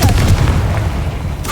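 A Confringo blasting spell from Hogwarts Legacy erupts as a loud, close, booming explosion with a rumbling tail that fades over about a second.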